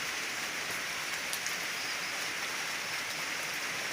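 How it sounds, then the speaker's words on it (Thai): Rain falling steadily outside a house with a kitchen garden, a dense, even hiss of drops with no pauses and no voices. "ฝนตก"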